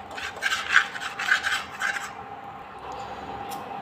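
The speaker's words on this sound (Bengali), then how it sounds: "এখন ভালো করে লবণটাকে ভেজে নেব" Salt dry-roasting in a pan at medium-low heat is stirred with gritty, rasping scrapes in several rhythmic strokes, then fades to a quieter hiss.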